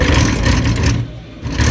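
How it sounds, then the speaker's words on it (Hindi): An e-rickshaw rattling and grinding as it is accelerated back and forth, giving a loud, rough, clattering drone that dips briefly and then returns. "यहाँ जब मैं आगे पीछे कर रहा हूँ तो गड़गड़ गड़गड़ गाड़ी में आवाज़ आ रही है"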